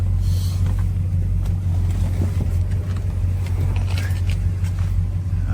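The 318 V8 engine of a 1973 Plymouth Road Runner idles steadily up close, a deep, rumbling continuous low throb with faint clicks and rattles over it.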